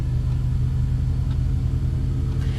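A lawn mower runs outdoors in the background, giving a steady, continuous low engine drone with a rumbling hum that holds at an even level throughout, with no talking over it.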